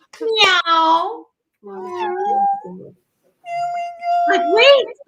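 A child imitates a cat meowing, giving several drawn-out, pitch-sliding meows in a close, clear voice with short pauses between them.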